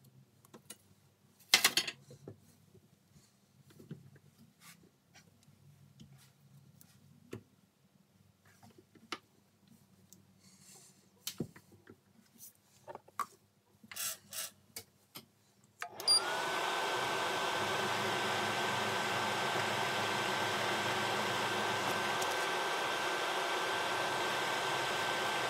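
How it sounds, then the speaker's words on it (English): Scattered taps and clatter in a quiet workshop give way to a steady, droning whirr as a lathe spins up and turns stainless steel with a silicon carbide tool, the running tone holding evenly to the end. "This material is stainless steel, so it's actually quite hard, and the silicon carbide tip does fine with that."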